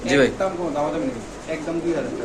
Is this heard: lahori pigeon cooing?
yes